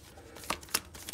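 Handmade tarot cards being shuffled by hand, giving a few soft, brief riffling flicks close by, quiet and uneven, with a short pause between each ruffle.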